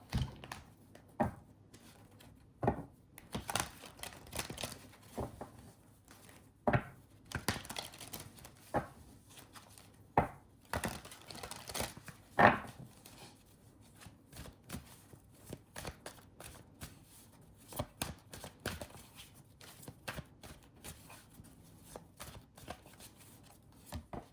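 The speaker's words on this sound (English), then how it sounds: "let me shuffle this deck really quickly" A deck of tarot cards being shuffled by hand in a quiet room, with repeated quick riffling and tapping bursts spread irregularly throughout, close and fairly crisp, no voices.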